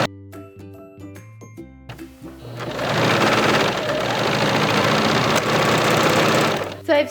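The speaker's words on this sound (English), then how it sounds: "So I've serged the edge of my sweater." A serger (overlock machine) stitches along the frayed edge of a sweater being made into a skirt, opening with short stop-start bursts and then a loud, steady, rapid mechanical whir that runs close up for several seconds before stopping.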